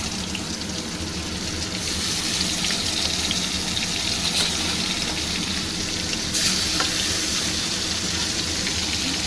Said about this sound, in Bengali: এইভাবে আমি খুব হালকা করে একটু মাছটা ভেজে তুলব।